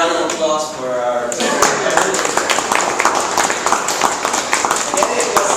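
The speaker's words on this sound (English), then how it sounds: "another round of applause for our" A small club audience at a Metro Manila Toastmasters meeting claps for another round, with a voice speaking at first before brisk, close hand claps fill the rest of the stretch.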